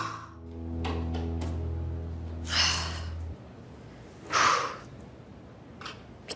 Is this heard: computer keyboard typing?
no